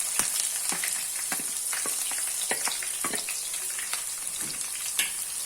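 Chopped green chillies and onions sizzle and fry in a pan for an upma dish, a steady close hiss broken by sharp crackles and stirring scrapes.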